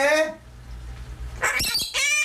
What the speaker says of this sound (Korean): 앵무새의 인사로 집을 나선 나영진 씨.